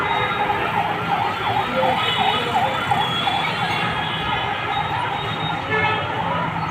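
Ambulance sirens wail repeatedly through a traffic jam in Dhaka near a slum fire at Kalshi, a loud rising-and-falling tone over road noise, with people talking.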